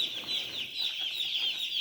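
Steady high-pitched cheeping from a group of day-old broiler chicks, continuous and overlapping throughout, fairly close.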